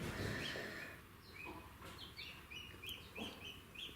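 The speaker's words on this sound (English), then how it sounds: "There's only one chirping creature I can hear, and I'm not sure if it's a chick or a guinea" A small chick or guinea fowl keet gives a string of faint, high, rapid chirps, repeated at an uneven rhythm over soft farmyard background noise.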